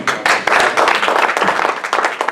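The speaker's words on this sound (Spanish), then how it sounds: "Dale un aplauso al Señor" A church congregation applauding during a sermon, loud, close and continuous clapping from many hands with uneven rhythmic bursts throughout.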